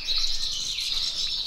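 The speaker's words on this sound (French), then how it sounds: "il volatile non ha proprio paura, guardate, la mano è lì" A tame goldfinch chirps close by in steady, high, bright trills that run continuously, loud and alone with no talk.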